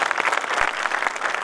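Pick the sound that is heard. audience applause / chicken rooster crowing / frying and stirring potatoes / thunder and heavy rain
audience applause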